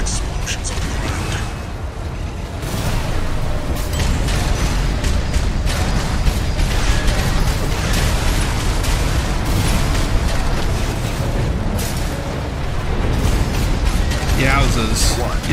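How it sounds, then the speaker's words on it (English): Repeated booming explosions and bursts in an action video game, dense and loud throughout, mixed with mechanical noise and voices talking over the top. "Use your mobility in the air to get clear of explosions on the ground."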